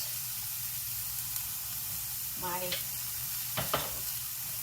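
Diced green tomato and celery sizzle with eggplant in a pan, giving a constant frying hiss, while a brief voiced sound and a couple of utensil clicks rise over it.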